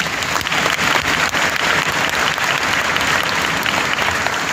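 Dense, loud applause fills a packed hall at a political gathering in Vigyan Bhawan, steady clapping from a large audience throughout.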